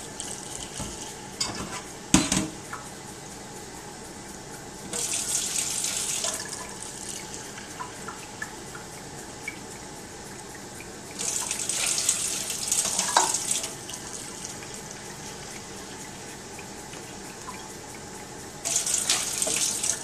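Water runs from a tap into a cooking pot for brown rice in three separate bursts, each a few seconds long, with clinks of cookware between them.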